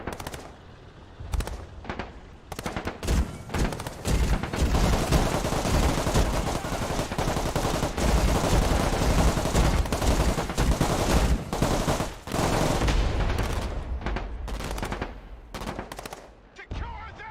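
Marines in the Broken Arrow modern real-time strategy game unleash sustained machine-gun and rifle fire, long dense bursts of rapid shots building to a continuous barrage before thinning into scattered cracks.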